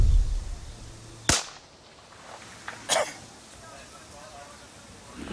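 A single rifle warning shot fired by Royal Marines on patrol in Afghanistan, a sharp distant crack followed by a quieter echoing report, with soldiers talking over radio before and around it.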